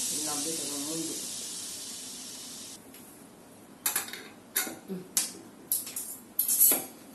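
Freshly boiled potatoes in a kitchen pot give off a steady broadband hiss of escaping steam that fades out, then a run of short lid and utensil clatters.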